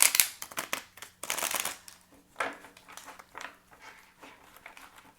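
Tarot cards riffle and slap together in quick bursts close by, followed by softer shuffling and tapping sounds with short pauses between them.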